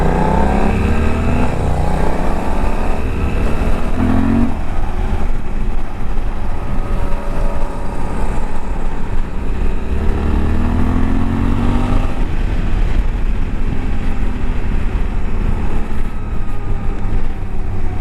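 Suzuki V-Strom 800DE motorcycle engine braking, heard as a loud, steady engine drone with falling pitch sweeps as the revs wind down, mixed with strong wind rush while riding.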